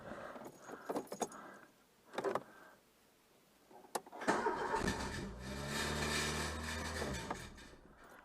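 A Renault 11 car is started cold: keys jingle and clatter first, then the starter cranks and the engine catches, settling into a steady, fairly loud idle close by.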